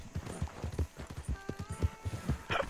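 Horse hooves clip-clop in Red Dead Redemption 2, a quick, steady rhythmic beat of close, moderately loud hoofsteps with a brief musical tone and faint background sound in the game.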